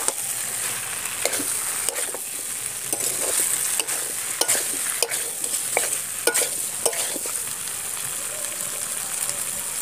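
Pre-fried jackfruit and potato pieces are stir-fried in a sizzling spice paste, a continuous close frying hiss broken by repeated sharp scrapes and knocks of a spatula against the pan.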